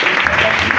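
A church congregation claps loudly in a brief, dense burst of applause mixed with voices.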